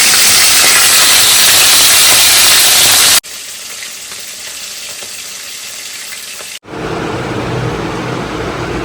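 Bottle gourd and shrimp (lau chingri) cook in a pan with a loud, steady hissing sizzle, broken by two abrupt cuts that change its level and texture.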